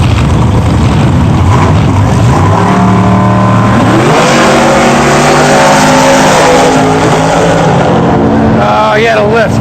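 A drag racing car at the 2009 Dover Dragstrip Reunion launches down the strip with a loud, rising engine roar that climbs in pitch, then falters as the driver lifts. Commentators talk over it.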